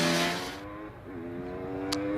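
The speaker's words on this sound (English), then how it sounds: "Back to number 802, Dylan Flasher in the Caterham 7, Suzuki GSXR powered." A Suzuki GSX-R motorcycle-engined Caterham 7 race car on a hillclimb course, revving high and shifting as it accelerates past, a loud harmonic engine note that dips and then climbs again, heard alone.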